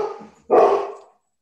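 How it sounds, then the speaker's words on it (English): A dog at home barks after a knock at the front door: one short, loud, close bark following a fainter yelp, with no speech over it. "So he's gonna bark a little bit for a minute."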